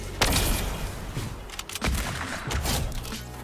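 Several in-game gunshots from Fortnite on a trickshot map ring out in slow motion with sharp, muffled thumps at irregular intervals, moderately loud amid a busy game mix.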